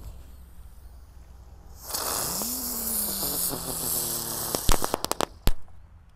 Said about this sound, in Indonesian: ini ada mercon teratai. Kita nyalakan, ini seperti gangsing guys, bisa mutar